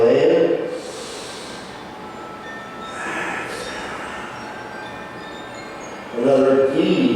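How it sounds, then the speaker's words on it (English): A deep breath drawn in during a hatha yoga session: a close, audible airy inhale near the start, a softer breath sound midway and another at the end, with a voice speaking around it. "Take a deep inhale in."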